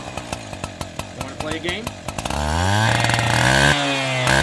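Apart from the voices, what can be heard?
chainsaw revving in a film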